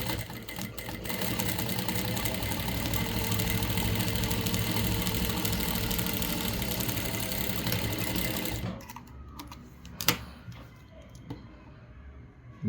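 A sewing machine stitches a blouse yoke, its motor whirring loudly and steadily with fast rhythmic needle clatter for about eight seconds, then stopping, leaving a few soft clicks and handling noises.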